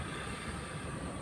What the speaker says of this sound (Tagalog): Nakita niyo yung LRT.